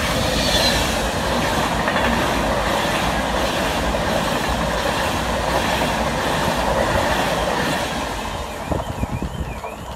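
A Voyager passenger train, a double set, passes close by at Penrith with a loud, steady rushing roar and rhythmic clatter of wheels, easing slightly in the final seconds.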